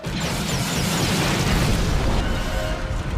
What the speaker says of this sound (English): the group was making their escape when Echo is caught in an explosion